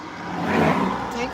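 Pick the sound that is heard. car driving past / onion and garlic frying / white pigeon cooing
car driving past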